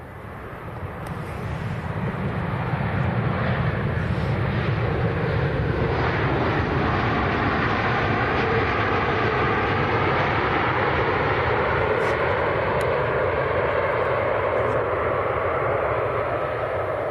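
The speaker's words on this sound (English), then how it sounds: "the Sun Express in the special livery is next to land" A SunExpress airliner in special livery lands at Manchester Airport, its engines a broad, continuous roar that swells within the first two seconds and holds steady, with some wind rumble.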